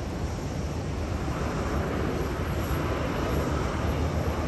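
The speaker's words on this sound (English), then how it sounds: "Boeing 787-9 Dreamliner Qantas from Los Angeles." Qantas Boeing 787-9 Dreamliner arriving from Los Angeles at Sydney Airport, a steady broadband jet engine roar with wind buffeting the microphone, continuous and fairly loud throughout.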